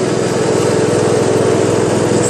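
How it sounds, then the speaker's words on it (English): A riding lawn tractor's small petrol engine runs steadily and loudly nearby, with a constant buzzing drone and no pauses. "It's just Henry trying out his new lawnmower as usual."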